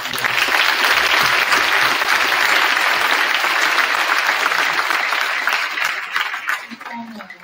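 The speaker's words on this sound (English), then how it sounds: "Please give her a huge round of applause." Loud, dense audience applause for a guest speaker at a high school event, steady and full before thinning out near the end as a voice returns.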